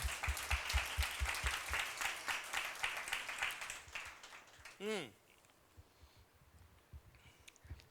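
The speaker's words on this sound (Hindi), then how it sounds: "और तालियां यीशु मसीह के लिए" Church congregation applause during a Sunday Tamil–Hindi service, a dense burst of clapping over the first few seconds that fades out, followed by a short rising tone and a quieter room.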